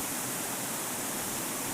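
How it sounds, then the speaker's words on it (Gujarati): Water flows down from a forested hillside near an ashram, a steady broadband rushing that is fairly faint and unbroken, heard with no voices over it. "આ જગ્યાએથી પાણી આવે છે."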